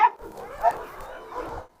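Stray dog at the front door of a house, letting out a few muffled barks and whimpering yips over about two seconds, moderately loud with no talk over it.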